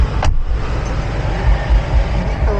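A car travels toward Toronto in cold weather, its low engine and road rumble steady and close throughout, with a brief higher whoosh near the start and no voices.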